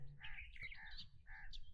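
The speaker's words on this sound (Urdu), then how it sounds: "نیچے آپ کو خوبصورت کبوتر دکھائی دے رہے ہیں" Pigeons call at a historic fort in Multan: a short run of bright, chirpy bird calls, fairly close, over low background noise.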